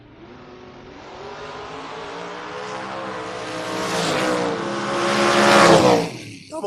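Drag racing door cars, including a 1987 Alfa Romeo, launch with a steadily building engine roar that rises in pitch and swells to a loud peak near the end before cutting off.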